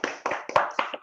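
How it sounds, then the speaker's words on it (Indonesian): An audience claps for a speaker at a motivational talk, a few loud, close bursts of clapping in short separate waves rather than sustained applause. "Berikan tepuk lagi teman-teman."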